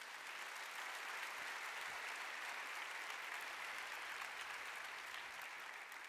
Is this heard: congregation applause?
yes